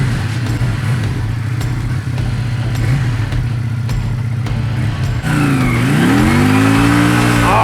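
V-twin cruiser motorcycle engine running loud and close, a steady throbbing idle that jumps into a sustained rev with rising pitch near the end.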